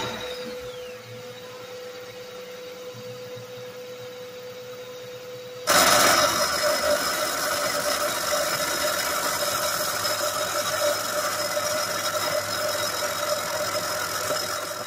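A Mercury Grand Marquis engine catches after several seconds of near silence, then runs at a steady, loud idle with a constant mechanical whir for the rest of the clip.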